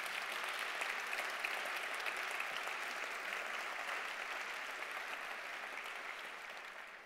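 A conference audience gives a big round of applause, steady and dense throughout, fading slowly toward the end, with no voices over it.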